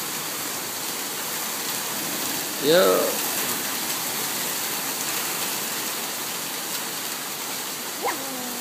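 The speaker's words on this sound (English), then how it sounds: "There's some hail. And it's coming down." Heavy monsoon rain with hail pours down in a big flooding storm, a dense, constant roar of water. A voice speaks briefly over it.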